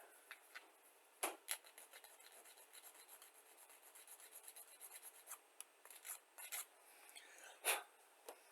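Small cutters snip a part off a sprue while preparing a miniature figure for painting; quiet scraping and handling are punctuated by a few sharp, close clicks.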